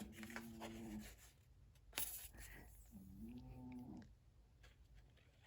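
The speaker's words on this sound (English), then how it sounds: "He's snoring right beside me." Small pet dog snoring close by in a quiet room, a couple of drawn-out nasal snores with a short sharp sound between them, low and soft.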